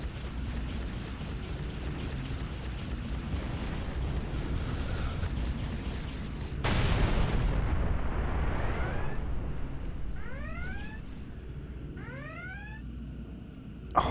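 Spaceship weapons fire in the space game Avorion, a dense, noisy barrage with a sudden louder burst midway, then repeated rising chirping zaps in quick pairs near the end.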